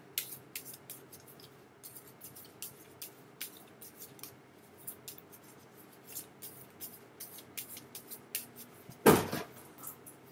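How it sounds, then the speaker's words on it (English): Soft papery rustling and light slaps of cards being shuffled, repeated in short bursts, with one louder brush near the end; no voices. "let's shuffle this deck."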